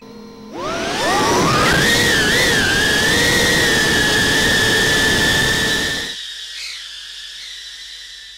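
HGLRC MotoWhoop 90 pusher FPV drone flying indoors; its small motors spin up into a loud, high whining buzz that rises and wavers in pitch while cruising, holds steady up close, then drops sharply to a fainter whine.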